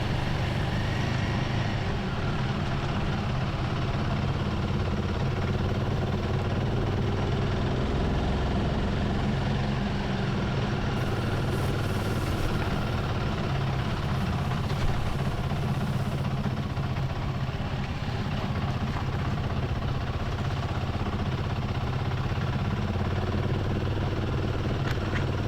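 Motorcycles ride an unsealed mountain road: a steady, unbroken rumble of engines and wind roar, continuous and fairly loud throughout with no pauses.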